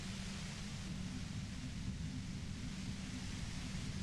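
Steady hiss of white noise from the video game Disco Elysium, a dense static wash with a rumbling low end that holds evenly throughout with no talk over it.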